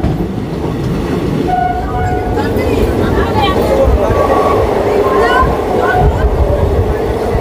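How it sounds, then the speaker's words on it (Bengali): Ganadevta Express from Howrah to Rampurhat pulling out of Sheoraphuli Junction, a steady loud rumble of the moving carriages with faint wheel clatter and chatter of passengers throughout. "আমাদের ট্রেন ছেড়ে দিল শেওড়াফুলি জাংশন থেকে।"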